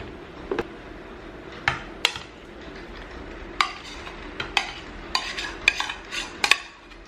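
Leftover dinner is mixed together in a pot, with a steady soft scraping under sharp, irregular clinks of a utensil against the pot, close and moderately loud, and no talking.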